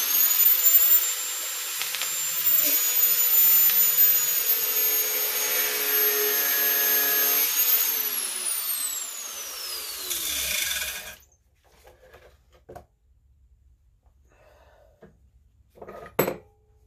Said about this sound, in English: I'm gonna cut off this remaining section that I don't need, and try to keep the cutoff wheel disc spatter out of my face